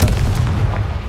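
A Confringo blasting spell explodes in the Hogwarts Legacy video game, a loud, close, rumbling boom that fills the whole moment without a break.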